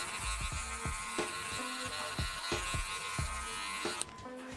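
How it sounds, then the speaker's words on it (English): Cordless Magic Clip hair clippers fitted with a number 2 guard buzz steadily up close, with repeated soft pulses as they pass through hair and a brief drop in tone near the end. "Using my cordless magic clips, I pop my number 2 guard on, close my lever, making it a true number two to cut all this off."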